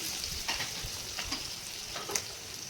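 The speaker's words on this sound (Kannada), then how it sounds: "ಸೊ ಇದು ಆನಿಯನ್ನು ಸ್ವಲ್ಪ ಡೀಪ್ ಫ್ರೈ ಆದಮೇಲೆ ಅಲ್ಲಿವರೆಗೂ ನೀಟಾಗಿ ಮಿಕ್ಸ್ ಮಾಡ್ಕೊಳ್ಳಿ." Onions frying in oil with cumin, curry leaves, green chilli and garlic for a cauliflower pepper dry, a steady close sizzle with soft stirring scrapes and small crackles throughout.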